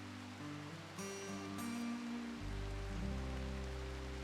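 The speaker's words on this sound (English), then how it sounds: "And then we'll go deal with the constant rain." Constant rain in a video game hisses as a steady, even wash of drops on surfaces, with low droning tones shifting underneath and no voices.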